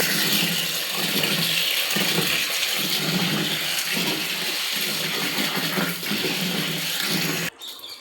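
Coriander seeds being rinsed by hand in a bowl of water, a steady close splashing and swishing that runs throughout, with a brief drop in level near the end.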